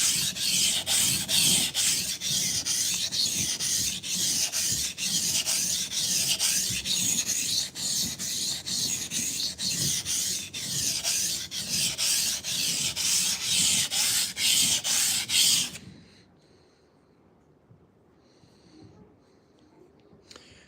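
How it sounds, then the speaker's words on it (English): A knife being sharpened on a whetstone that is building up slurry, with a loud, steady rhythmic rasp of back-and-forth strokes close by for about fifteen seconds, then stopping, leaving faint light taps. "I'm wondering how much sharpening it'll take to get down below the writing on the stone."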